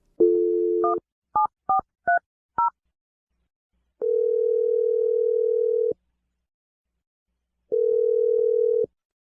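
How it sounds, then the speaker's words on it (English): A telephone number is dialed: a steady dial tone, then five quick keypad tones in an uneven sequence, followed by two long ringback tones separated by a gap, all clear and close with no voices. "let's dial the number right now"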